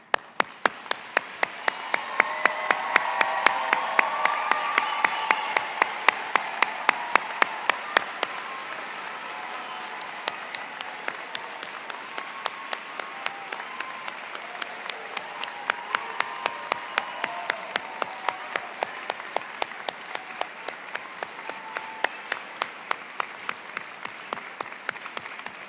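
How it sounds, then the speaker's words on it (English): A graduation audience applauds the standing valedictorians and salutatorian with steady, dense clapping and a few cheers, swelling early and then holding at a lively level throughout. "receive a well-earned round of applause"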